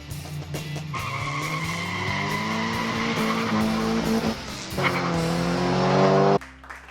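Modified 1/64 diecast muscle cars roll down a toy track in a close race, a loud, sustained whirring rumble with rising whine that swells near the finish and cuts off abruptly.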